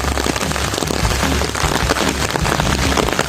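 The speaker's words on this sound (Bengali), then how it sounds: "প্রচুর বৃষ্টি হচ্ছে বন্ধুরা, দেখতেই পাচ্ছ," A downpour at a muddy fishing spot drums on an umbrella and the ground, a dense, loud patter lasting the whole moment without any voices.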